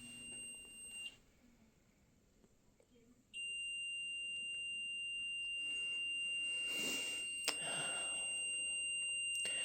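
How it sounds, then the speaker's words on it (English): Temperature alarm on a device at a woodland campsite gives a steady high-pitched electronic beep tone that runs continuously, clear and close, with faint background activity and a brief louder burst of noise partway through. "That's the temperature alarm on it."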